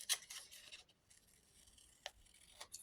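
Quiet, close snips of scissors cutting paper, a few quick crisp bursts spaced irregularly over near silence.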